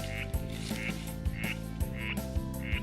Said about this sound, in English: You hear that? It's a frog.